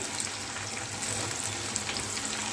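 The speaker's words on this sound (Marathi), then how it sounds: "छान असा कांद्याला कलर येईपर्यंत आपल्याला फ्राय करून घ्यायचं आहे तेलात" Onion frying in oil with crushed garlic, a close, continuous bubbling sizzle heard on its own.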